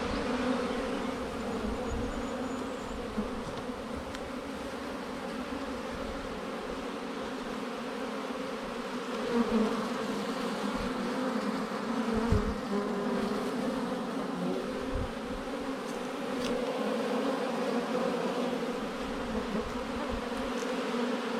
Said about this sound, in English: the bees are working fine, very busy bringing pollen